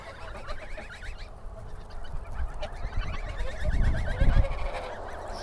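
Domestic geese honking while feeding on sugar beet, a flock of nasal calls repeating close by, mixed with thumps and crunching that grow louder toward the end.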